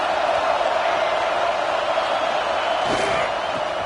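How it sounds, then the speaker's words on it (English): Stadium crowd in a Madden football game roars as a steady, dense wash of noise, loud and continuous across the whole stretch, with a brief sharp accent near the end. "Listen to this crowd just shaking the girders of this place"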